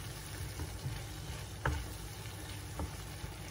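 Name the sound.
stirring seafood pasta sauce sizzling in a pan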